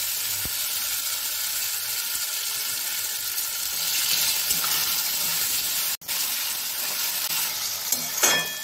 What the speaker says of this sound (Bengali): এরপর এর মধ্যে আমি আদা বাটা আর টমেটো কুচি দিয়ে ভালো করে মিশিয়ে নেব।